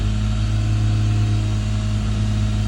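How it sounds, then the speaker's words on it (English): Lexus IS350 engine running at a high, steady idle, a continuous loud hum with strong low tones and no voices. "My car is just revving high as fuck."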